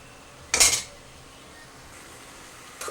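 A spoon knocks and scrapes once against a pan of cooking tomato chutney, a single sharp metallic clatter near the start, then a faint sizzle with a small tap at the end.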